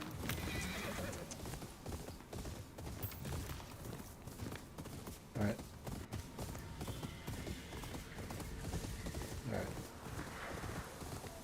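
A horse in the video game Ghost of Yōtei gallops with steady, close clip-clop hoofbeats and lets out a neigh partway through, while someone speaks briefly over the hooves.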